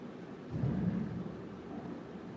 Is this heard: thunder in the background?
yes